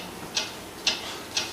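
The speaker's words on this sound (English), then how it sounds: "What is that mysterious ticking noise?" Three evenly spaced, crisp ticks, about half a second apart, from a mysterious ticking source, standing out against a quiet, hissy background with no one talking.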